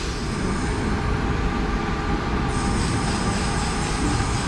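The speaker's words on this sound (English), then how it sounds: "What's also about to depart is the 1025 Northern service to Liverpool Line Street from Crewe." Northern passenger train, unit 323239, departing Crewe station for Liverpool Lime Street, a loud steady rumble of wheels and traction with a high whine, close and continuous with no talk.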